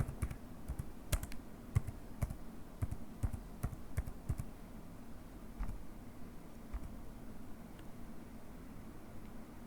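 Quiet, close clicking of a computer keyboard as a project name is typed into Jira, with irregular bursts of keystrokes that thin out toward the end, over a faint background hum.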